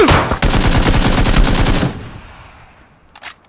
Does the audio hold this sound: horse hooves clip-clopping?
no